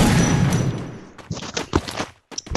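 Double-barrel shotgun blasts in a video game, a dense rumble of gunfire at first, then several sharp separate bangs with brief gaps between them.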